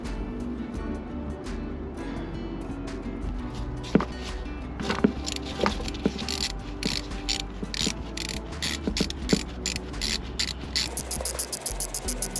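A ratchet wrench removes the VANOS bolt on a Mini Cooper S engine with the timing chain and head coming off, giving quick runs of metallic clicks that grow busier, plus tool clatter, close and clear, no talk.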